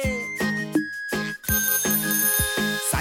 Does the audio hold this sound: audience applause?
no